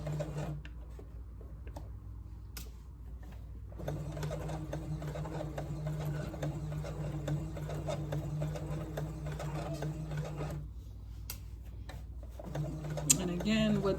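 A domestic sewing machine runs softly through a long steady stretch while a collar stand is stitched, then pauses, then starts again briefly, with faint mechanical clicks between.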